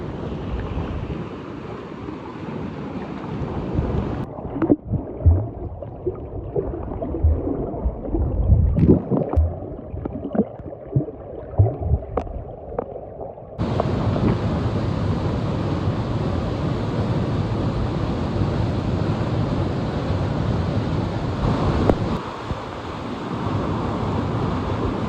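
Keralakund waterfall near Karuvarakundu, a steady broadband roar of falling and rushing water heard up close, with wind buffeting the microphone, changing character partway through.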